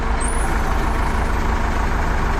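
A YuMZ-6 tractor with a KUN front loader works its hook up and down under a steady, loud engine and hydraulic drone with no pauses.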